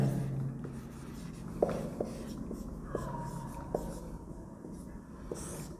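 Writing out a chemistry lesson on unit cells on a board, a series of faint taps and scratches spaced out over several seconds with a quiet room tone behind.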